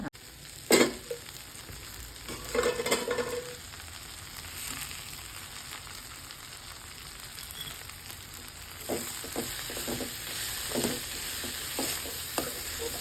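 Okra being stirred with gram flour, kasuri methi and amchur powder for bindi fry, giving a few scraping stirs and a soft sizzle early, then quieter intermittent stirring and light frying sounds with no talk.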